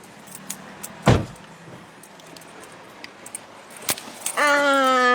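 Car keys jangle close by and a car door thumps shut once, followed by the engine starting up in a steady hum, in a car in Enna, Italy.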